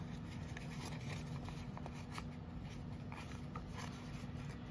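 A sheet of paper is folded into a triangular pleat, giving faint, soft rustling and creasing under a steady quiet background hiss.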